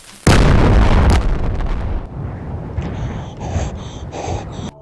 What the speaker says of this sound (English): Next explosion coming up in 5